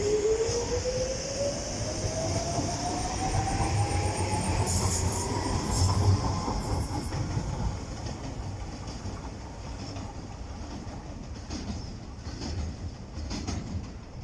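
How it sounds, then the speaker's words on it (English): A DLR train departs Greenwich station towards Lewisham, its motors whining upward in pitch as it pulls away, wheels squealing and clattering over the track before the sound fades into the distance. "And off goes the DLR service to Lewisham."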